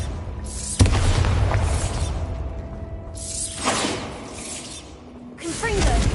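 Bombarda spell blasts in Hogwarts Legacy, three loud booming bursts with whooshing tails separated by quieter gaps, alongside other game sounds.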